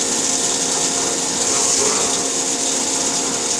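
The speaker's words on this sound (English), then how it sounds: "that drill bit is loading up them chips around them flutes" CNC machine drilling a deep hole in a steel part for a 1845C skid steer, a steady broadband whir and grinding hiss from the bit loading up with chips, continuous and fairly loud with no talk.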